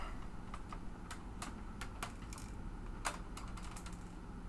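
Keys clack in quick, uneven bursts on a large old-school terminal-style keyboard, crisp close taps over a quiet room background, no voices.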